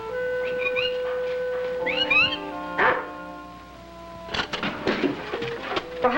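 A dog whimpers in short, high rising whines and lets out a few sharp barks nearby, with the noises scattered across several seconds and broken by quieter gaps and some rustling in between.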